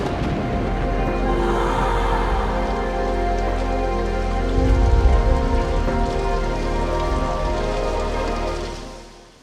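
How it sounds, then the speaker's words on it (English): Homemade rain machine spraying artificial rain, a steady dense hiss of drops pattering on surfaces that swells briefly midway and fades out at the end. "I can design a rain machine that will give us the desired effect and mood."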